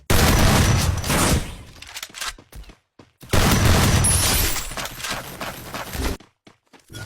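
A pistol fires rapidly in two long, loud bursts of continuous shots, separated by a short pause with scattered softer knocks.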